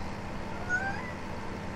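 A cat in Farming Simulator 17 lets out a short, faint meow partway through, set against a steady low ambient hum with no talking.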